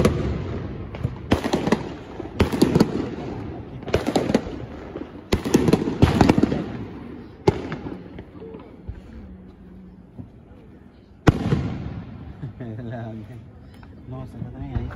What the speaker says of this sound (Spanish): los cohetes.